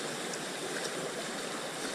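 Heavy flowing water of an urban trout stream, a dense, steady hiss and rush with no breaks, fairly close and even, no voices.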